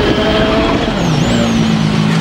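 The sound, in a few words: rally car driving through a corner on a special stage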